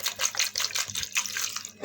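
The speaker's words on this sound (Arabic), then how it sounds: "مقدار كوبايتين مية،" Two cups of water pour steadily from a tap-like stream into a cooking pot holding tomatoes for a koshari sauce, a continuous splashing gush lasting under two seconds with no talk.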